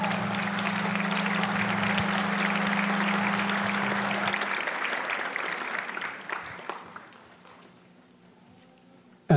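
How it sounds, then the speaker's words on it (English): Audience applause fills a concert hall at a holiday pops symphony orchestra performance, steady and dense for several seconds before thinning and fading out toward the end. "Another round of applause for Willie Wilson"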